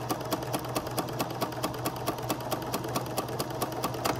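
Sewing machine stitching a half-inch seam, a close, fast and even rhythmic clatter of the needle running continuously with a low motor hum underneath and no talking.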